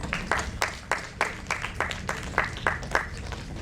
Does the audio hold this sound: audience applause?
yes